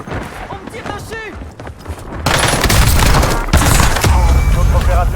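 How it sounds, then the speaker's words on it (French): Gunfire aimed at the player in a first-person shooter, a sudden loud burst of rapid automatic shots and impacts that continues to the end after quieter voice chat and game sounds. "On me tire dessus."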